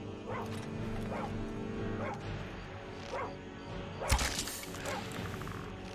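A dog in the Skyrim video game barks in short, repeated yelps at a steady pace over a continuous game background hum, with a sharp thud partway through.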